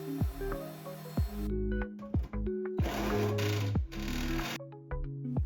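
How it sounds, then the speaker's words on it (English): Drilling a hole through a countertop or sink for a reverse osmosis faucet, the drill whirring in repeated bursts with several loud sustained grinding passes and sharp stops and starts. "Just keep on drilling until I hit the edges of the circle there."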